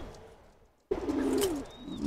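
A prized pigeon coos in a low, rolling burst after a brief hush, close and fairly loud, with a faint chirp drifting in near the end.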